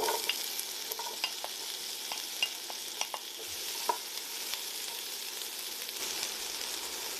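Garlic, chilli and red pepper frying in a pan, a steady soft sizzle with light scraping clicks from stirring, close and alone.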